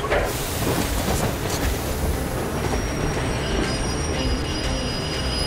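Train wheels screech steadily against the rails in the video game Metro Exodus, a loud, continuous metallic squeal over heavy rolling rumble.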